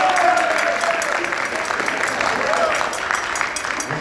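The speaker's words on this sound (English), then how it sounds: "Give him a round of applause." An audience at a school tour assembly claps steadily as a welcome, a dense, continuous patter of applause lasting several seconds, with a voice faintly mixed in.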